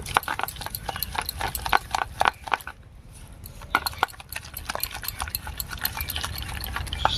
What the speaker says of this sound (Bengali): এবারে খুব ভালো করে ফেটিয়ে নেব।